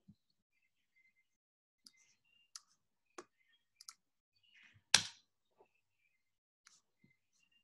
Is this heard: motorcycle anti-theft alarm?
no